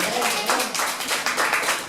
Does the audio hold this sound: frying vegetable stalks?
no